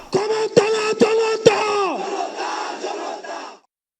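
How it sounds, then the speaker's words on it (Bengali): A large crowd chants protest slogans in unison at Manik Mia Avenue in Dhaka. The chant comes in rhythmic shouted bursts with sharp accents, then trails off into a sustained collective cry. "জুলাই অভ্যুত্থানে অংশ নেয়াদের পদচারণা আর আন্দোলনের সময়কার সেই সব স্লোগানে মুখরিত পুরো এলাকা"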